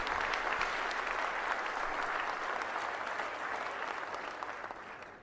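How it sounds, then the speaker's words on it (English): Sustained applause from members of Congress during a speech by Ukrainian President Volodymyr Zelensky, dense and even, tapering slightly toward the end, heard at a distance. "Oh, she can't get more clapping in."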